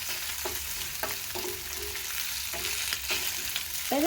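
Goat meat (mbuzi) dry frying with garlic in a pan until brown, a steady close sizzle with a few scraping stirs and light clinks scattered through it.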